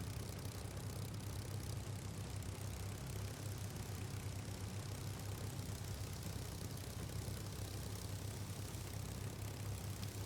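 Spitfire piston engine running steadily before a flapless takeoff, a constant droning hum with a low throbbing pulse, unchanging and fairly distant, with no talk.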